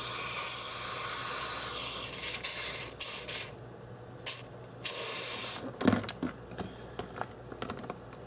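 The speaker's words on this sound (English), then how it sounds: "Coat it to the bottom of it here." Corrosion X waterproofing sprayed onto the underside of an RC car: a long hissing aerosol burst, then shorter bursts, followed by light clicks and handling noises, close and without talk.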